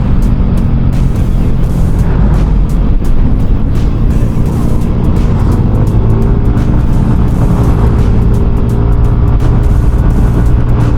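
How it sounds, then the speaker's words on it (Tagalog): A Yamaha Aerox SP V3 scooter engine braking after a downshift on an uphill, twisting road, a loud rough drone mixed with heavy wind buffeting and no voices. "downshift, engine brake"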